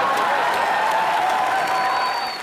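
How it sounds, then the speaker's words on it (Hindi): Studio audience on a comedy talk show bursts into applause, continuous loud clapping filling the room, with a faint tonal hum running underneath. "ओह जोरदार तालियां अकबर अंबर सर के लिए।"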